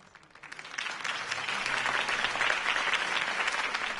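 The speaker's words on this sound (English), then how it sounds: "If only Mr. Wayne, my campaign's largest backer, could have heard that applause" Crowd applause following a campaign speech in the Batman Telltale video game, swelling from a few claps into sustained, full clapping that holds steady.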